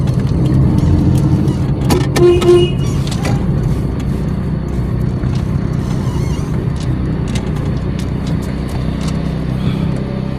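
A car drives with a steady close engine rumble and road noise, with a few brief clicks and a short tonal beep early on.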